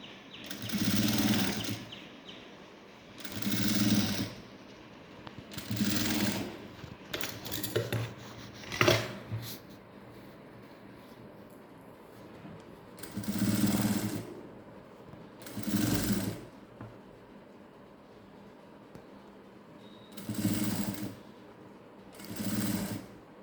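A sewing machine stitches the lining of a blouse in short bursts of rapid whirring, several separate runs with quiet gaps between, close and moderately loud.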